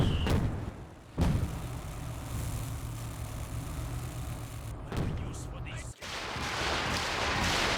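A Company of Heroes 2 artillery barrage booms as dense, continuous rumbling explosions. The blasts are sharpest at a few moments and run under a game commentator's steady voice.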